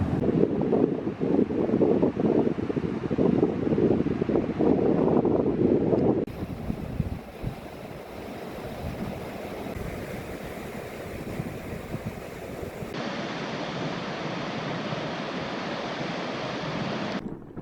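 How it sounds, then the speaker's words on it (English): Surf and wind on a South Carolina beach at Huntington Beach State Park, with waves washing in and strong wind buffeting the microphone, the roar heaviest at first and then settling into a steadier breezy wash. "Here's the beach"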